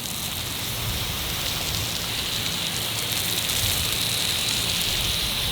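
A steady, even hiss of water spraying from an Aqua Joe hose nozzle, continuous and close, like heavy rain pattering onto a surface, without any voices.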